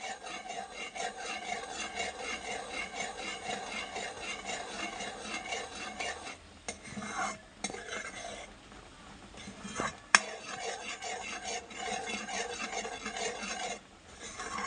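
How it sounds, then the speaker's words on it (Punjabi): A ladle scrapes steadily through thickening semolina sweet in a pan, making a continuous close rasping, rubbing sound with a few brief pauses and knocks. "ਇੱਦਾਂ ਹੀ ਚਮਚਾ ਫੇਰ ਫੇਰ ਕੇ ਕੜਛੀ ਫੇਰ ਫੇਰ ਕੇ ਆਪਾਂ ਇਹਨੂੰ ਪਕਾ ਲੈਣਾ"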